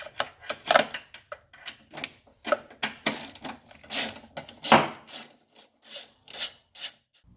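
A ratchet loosens fasteners on the airbox of an Infiniti G20, giving irregular bursts of close clicking and rasping mechanical sound separated by short pauses.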